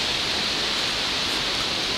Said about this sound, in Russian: еще один взгляд на водопад